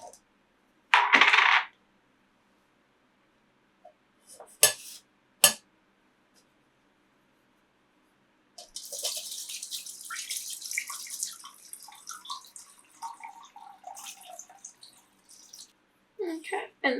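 Homemade fire cider ingredients of chili and apple tipped from a tray into a jar, with a few sharp knocks and clinks, then a long wet pour and trickle of liquid, close up, with a voice talking at times.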